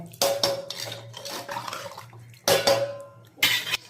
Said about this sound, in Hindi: इसको हम मिक्स कर देंगे।